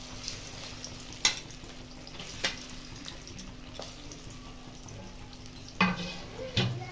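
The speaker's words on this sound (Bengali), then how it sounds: "এবার সয়াবিনগুলোকে ভেজে নেব।" Soya chunks fry in hot oil as a continuous low sizzle, with a few sharp clatters of utensils or splashes standing out over the quiet background hum, and no speech.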